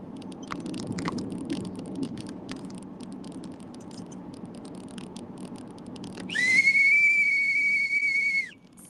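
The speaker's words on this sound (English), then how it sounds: "he blew the Flagrant whistle" A referee's whistle is blown for a flagrant foul at a boxing event. A single sharp, sustained shrill blast of about two seconds rises over muffled crowd noise and patter, with no talk.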